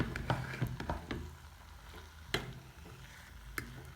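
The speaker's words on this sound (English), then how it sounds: "I'm gonna give it a second to melt now." Cheese melts in a hot pan with a faint, steady sizzle, broken by a few sharp ticks and small pops at irregular intervals.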